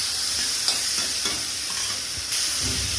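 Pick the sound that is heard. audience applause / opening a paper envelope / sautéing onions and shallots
sautéing onions and shallots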